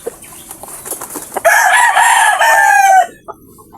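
A rooster among released hens crows loudly and close, one long drawn-out call in the middle, with softer clucks and farmyard sounds before and after.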